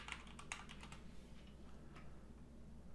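Quiet computer keyboard typing a Google search, a quick run of soft key clicks at the start that thins out to a few scattered taps over a faint steady hum.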